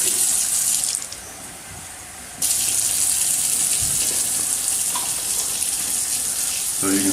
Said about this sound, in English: I'm going to take one sample directly out of the tap.